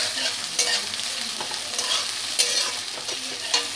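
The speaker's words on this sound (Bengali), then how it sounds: "তখন আমি পেঁয়াজ কুচিটা দিয়ে দেব। পেঁয়াজটাকে ভেজে নেব।" Chopped onions fry in hot oil with browned cumin seeds, a bright continuous sizzle broken by regular scraping stirs of a spatula against the pan.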